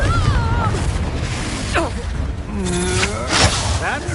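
A Confringo fire spell blast in Hogwarts Legacy goes off with a booming burst and whoosh amid a dense game mix, with several spell effects and other sounds overlapping across the short span.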